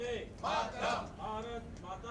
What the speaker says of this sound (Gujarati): તો એક તરફ ભાજપના નારા પણ લગાવવામાં આવી રહ્યા છે